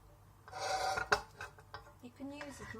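Utensil scraping and clinking against a dish while chocolate icing is spread over a vegan chocolate cake, with a sharp metallic tap partway through. The sounds are close, soft and irregular, and a voice murmurs briefly near the end.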